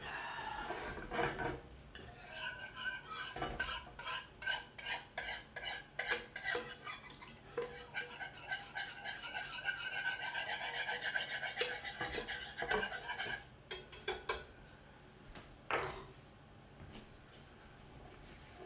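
A whisk beats a thickening sauce in a pan on the stove, making rapid rhythmic scraping strokes in quick bursts with short pauses, close and clear, with no talk.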